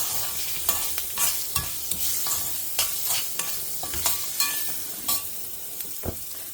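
Capsicum and asafoetida being stir-fried in a pan, with quick scraping strokes of a spatula every half second or so over a light, steady sizzle, heard up close.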